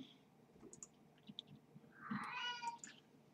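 A house cat gives a distressed, drawn-out meow near the end, preceded by faint clicks and soft shuffling, quiet and close with no speech.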